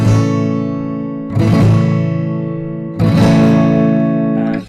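Strummed guitar chords ring out in an open fan fingerstyle pattern from the chorus of a song, with three rich, sustained strums, each a bright attack that fades, played close with no voice.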